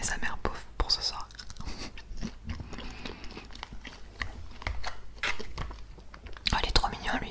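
Close, crisp chewing and crunching of McDonald's fast food in a mukbang-style tasting, with soft mouth sounds and occasional whispered speech throughout.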